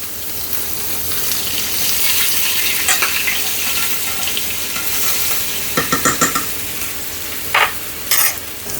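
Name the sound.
salmon frying in butter in a pan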